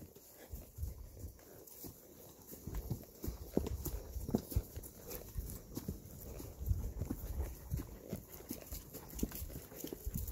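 A horse plods along a trail at a steady walk, hooves clip-clopping in an uneven rhythm of soft, close thuds that run throughout.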